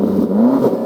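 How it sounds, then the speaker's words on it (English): A Range Rover Sport SV V8 engine revs briefly and steadily with a rising pitch, close and loud, lasting under a second. "Give the car some revs."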